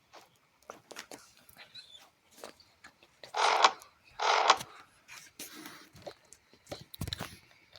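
A dog at home gives two short, breathy huffs close by in the middle, like panting or snorting, among quieter scattered rustles and a soft low thump near the end.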